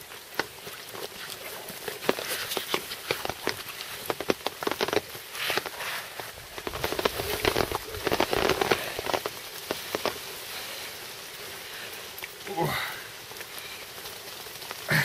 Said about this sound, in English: Perhaps fishing in the rain isn't that bad after all.